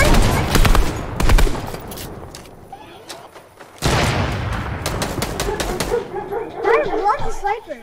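Gunfire in the video game Fortnite, rapid bursts of clattering shots in two loud clusters with quieter scattered pops between, mixed under excited voices of players talking.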